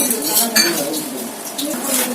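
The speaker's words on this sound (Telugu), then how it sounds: "గిన్నె తీసుకొని కొంచెం నెయ్యి అయితే రాసుకోండి" A metal cooking bowl is handled in a home kitchen while being greased with ghee, giving light clinks and soft scraping of metal, close and fairly quiet.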